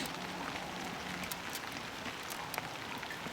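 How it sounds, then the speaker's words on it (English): Light rain pattering steadily on outdoor surfaces at a tiny house build site with a new metal roof, a soft continuous hiss with scattered brief drop clicks, no voices. "It is starting to rain a bit"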